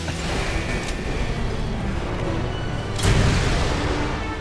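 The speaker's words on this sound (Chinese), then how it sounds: "哪里打来的火箭筒啊" Rocket launcher fire and explosions in a video game: a steady low rumble of combat noise, broken near the end by one louder blast that swells with a deep boom, with no talking.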